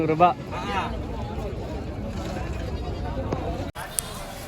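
Goats bleating at the Ranipet goat market, a couple of short bleats early on against constant crowd chatter and market bustle, with people talking throughout.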